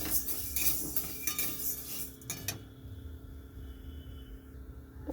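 Mung dal dry roasting in an empty wok, with a spatula clinking and scraping against the metal in quick, light strokes that stop partway through, leaving a quiet tail.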